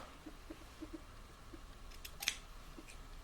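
Sewing scissors clip the seam allowance at the corners of a sewn blouse, making a few soft, faint snips followed by one sharper, brighter cut near the end, all alone in a quiet room.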